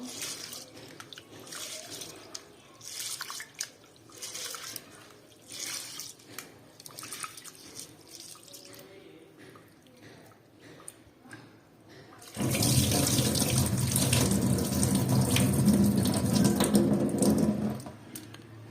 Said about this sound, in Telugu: ఎక్కువ పిసుకోకుండా అట్లా కడిగేద్దామండి. 2 సార్లు వాష్ చేసి నానబెట్టుకుందాం 1 అవర్